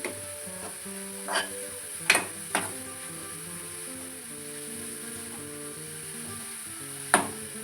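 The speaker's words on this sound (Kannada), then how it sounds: "ಇದೇ ಪಾತ್ರೆ ಏನಕ್ಕೆ ಹುರಿತಾ ಇದ್ದೀನಿ ಅಂದರೆ ಸ್ವಲ್ಪ ಸಿಹಿ ಜೊತೆ ಹುರಿದ್ರೆ ಕ್ಯಾರೆಟ್ ತುಂಬ ಚೆನ್ನಾಗಿ ಫ್ಲೇವರ್ ಬಿಟ್ಕೊಡುತ್ತೆ" Grated carrot roasting with a sweetener in a pan for carrot modaka, a soft continuous sizzle broken by a few sharp knocks and scrapes of a spoon against the vessel, close and without speech.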